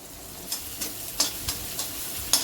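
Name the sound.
onion sautéing on high flame with ginger and garlic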